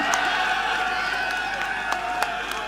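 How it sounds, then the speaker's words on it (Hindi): Crowd at a Congress party rally in Karnal clapping and cheering, a steady dense wash of applause with a few sharper whoops and claps standing out, fairly loud and continuous throughout. "जोरदार ताली बजाएं भाई भूपेंद्र लाठर जी"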